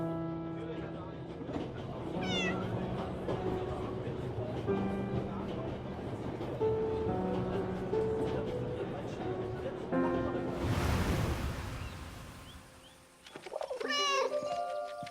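Short meows from a cat in the video game 11-11 Memories Retold, sounding over a layered music and ambient bed. A burst of noise comes near the end, then further high calls follow.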